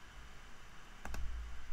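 Two quick computer mouse clicks sound close and crisp in succession, isolated against a faint steady hiss during audio editing.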